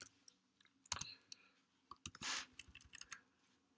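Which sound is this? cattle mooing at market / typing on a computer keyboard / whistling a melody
typing on a computer keyboard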